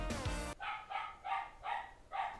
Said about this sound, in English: I'm so sorry if my dog barks.